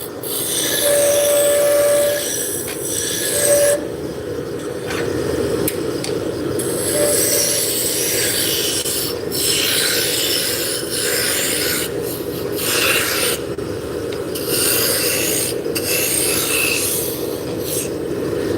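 Roughing gouge shaping a spinning wood blank on a lathe, a steady loud rasping scrape that continues unbroken for the whole stretch, with the motor's hum underneath.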